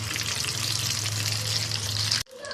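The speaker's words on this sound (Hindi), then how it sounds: "और इनको हम गोल्डन ब्राउन होने तक हम इनको अच्छा सा फ्राई कर लेंगे।" Potato cutlets (aloo kebabs) shallow-frying in oil until golden brown give a dense, steady sizzle, close and fairly loud, that cuts off abruptly near the end.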